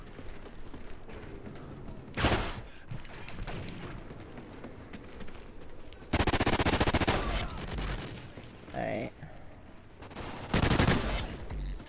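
Gunfire from a weapon in the video game Call of Duty Ghosts, with loud bursts of shots around two, six to eight and eleven seconds over a steady background of game noise.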